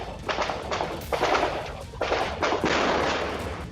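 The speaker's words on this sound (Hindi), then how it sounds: "थोड़ी ही देर में गोलीबारी और धमाकों की आवाजें गूंजने लगी" Gunfire and explosions ring out during a security forces' encounter with militants: several sharp, loud broadband bursts arrive in irregular succession, echoing and overlapping with no speech.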